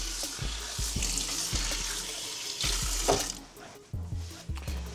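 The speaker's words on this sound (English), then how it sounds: "I'm gonna get some hot water." Hot water runs from a tap in a steady rushing stream into a cup, close and continuous, then cuts off near the end, followed by a few soft knocks.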